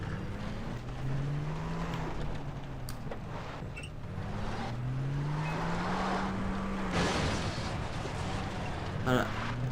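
A car drives in the video game Far Cry 3, its engine rising and falling in pitch through repeated gear shifts, steady and fairly quiet, with someone talking over it.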